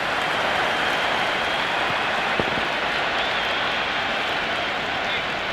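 A stadium crowd at a T20 cricket match between England and India keeps up a steady, dense roar of cheering and noise throughout, with a commentator's voice faintly over it.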